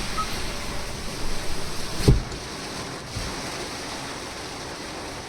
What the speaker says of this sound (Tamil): மழை வரும் தட்டி எடுத்துட்டு இருக்குது